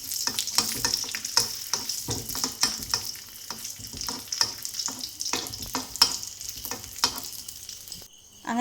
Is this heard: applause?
no